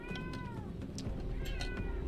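A cartoonish cat in the video game Tower of Fantasy meows twice, each call a clear rising-then-falling tone, close and fairly loud over a steady game background hum.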